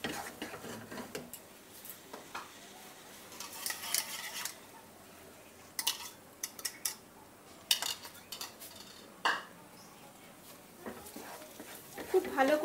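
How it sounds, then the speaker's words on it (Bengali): Beaten egg being stirred into semolina for halwa in a pan, with clinking scrapes and taps of a utensil against metal coming in irregular bursts, close by, under a quiet background. "ভালো করে এটাকে ডিমটাকে সুজিটার সাথে মিক্সড করে দিতে হবে এবং এটাকে কন্টিনিউ নাড়তে হবে।"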